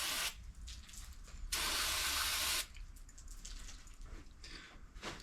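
Cleaner sprays onto the carburetors of an older Polaris snowmobile in bursts, with a long loud hissing blast in the middle and shorter spritzes before and after, close by.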